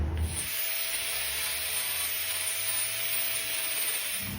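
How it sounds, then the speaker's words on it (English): An angle grinder cleaning up metal tube ends before welding, giving a steady, bright, hissing abrasive whine that holds at an even level throughout, close by and uninterrupted, with no voices. "Just gonna use the angle grinder to clean up the ends of these things where I'm gonna weld them"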